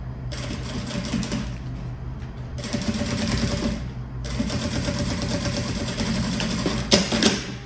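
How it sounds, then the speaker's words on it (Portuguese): A sewing machine runs in bursts while backstitching and stitching a crossbody bag, with a steady mechanical whir that pauses briefly between runs and clicks near the end. "Faço o retrocesso e costuro aqui"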